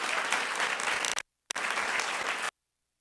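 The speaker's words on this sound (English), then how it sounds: "Let's give her a round of applause." Audience applause at a governor's behavioral health and public safety announcement, a dense burst of clapping that cuts off briefly and resumes before stopping abruptly.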